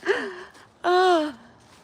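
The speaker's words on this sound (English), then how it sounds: "That sounds like a wounded vulture, and making all the little birds fly away is jays." Jays call outdoors on a walk: two drawn-out, harsh, wavering cries, the second louder and longer, separated by a short pause, with no talking.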